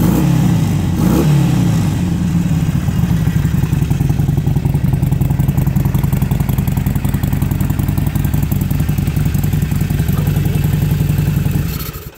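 A 2014 Harley-Davidson Sportster 48 engine idles steadily and loudly nearby, with a brief throttle blip near the start, then a low, even rumble until it cuts off.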